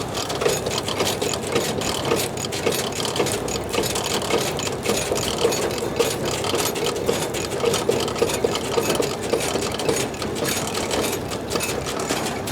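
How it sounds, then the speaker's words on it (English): A freshly greased manure spreader runs smoothly in a steady, continuous mechanical whir and hum, with faint rattling throughout and no talking. "You can barely hear this machine running over here now."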